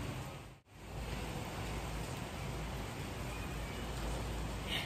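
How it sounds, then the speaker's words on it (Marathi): Rain falling outside an open window, a steady, soft, broadband hiss that continues evenly apart from a brief dropout near the start, with no voices. "आत्ता असा पाऊस आहे."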